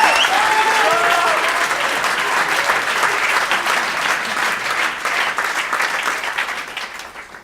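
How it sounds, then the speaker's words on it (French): Sustained applause from a theatre audience, dense and loud throughout, with a brief voice over the start and the clapping easing slightly toward the end. "Là, vous pouvez l'applaudir, s'il vous plaît."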